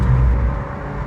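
Rental BMW on the Nürburgring accelerating, a loud close engine roar that is strongest at the start and eases slightly within a brief second.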